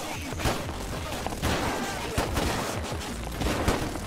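Dense WW1 musket and rifle gunfire in the video game Holdfast: Frontlines, with overlapping loud cracks and volleys crowding together in a continuous battle din.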